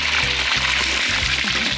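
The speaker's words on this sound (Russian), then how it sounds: "Масло очень сильно кипит." Oil boils hard in a kazan while plov is cooked, a dense close crackling sizzle with a low churning rumble underneath, steady throughout and with no talking.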